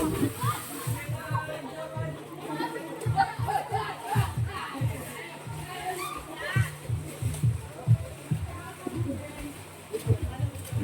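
Group of people swimming in a cool river, producing irregular splashes and sloshing water close by, mixed with lively chatter and children's voices throughout.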